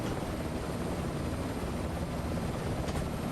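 Steady broadband rotor and turbine drone of a UH-1H Huey helicopter in flight within a flight simulator game, continuous and even in level with no talk over it.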